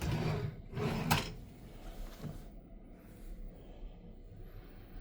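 A closet drawer in a cruise ship sea terrace cabin slides open or shut with a couple of soft rumbling thumps in the first seconds, followed by a quiet room hum.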